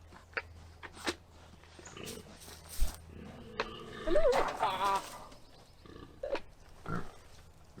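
Pig grunting as it is coaxed into a new area, several short, low snorts and grunts spread across the clip, fairly close, with soft movement noises and no talk.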